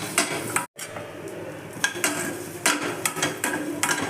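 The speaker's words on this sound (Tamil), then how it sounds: "இன்னும் கொஞ்சம் நேரம் லைட்டாக வதக்கி எடுத்துக்கலாம்." Green chillies, garlic and coconut sautéed in a pan, with steady soft sizzling and repeated scraping strokes of a spoon stirring against the metal, close and continuous, a brief silent gap near the start.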